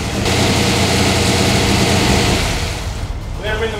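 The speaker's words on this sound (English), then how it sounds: "I can hear it's firing on all cylinders" A 900 hp Hemi-powered Dodge Charger idling too high, a loud, close, steady rumble that fades slightly toward the end as a voice briefly speaks.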